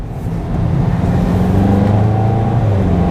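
A Volkswagen Golf engine drones loudly and steadily from inside the car on a track warm-up lap, with a low continuous rumble and rising engine tone.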